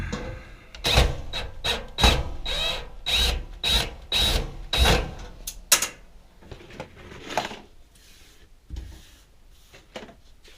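A screwdriver works screws out of a dryer's metal panel in quick rhythmic bursts of close scraping and turning that slow into scattered clicks and rattles toward the end.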